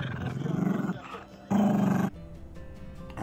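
A pet dog named Pook growls and roars in two loud, rumbling bursts, with a quieter pause between them and low growls trailing afterward.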